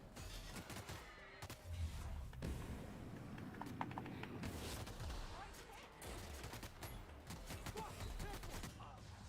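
Dense video game gunfire from a pistol, with shots cracking among other battle noise in a busy, continuous mix of fairly faint bursts and clatter.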